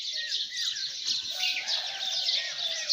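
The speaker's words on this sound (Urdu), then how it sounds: "چنٹو کی آنکھ چڑیا کی آواز سے کھلی" A sparrow chirps steadily in the early morning, a dense run of bright, high tweets close by with no pauses and no other sounds.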